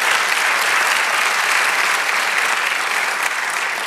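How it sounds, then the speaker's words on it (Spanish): A congregation applauds during a church sermon, a loud, dense, continuous roar of many hands clapping that holds steady throughout. "Denle un aplauso al Señor"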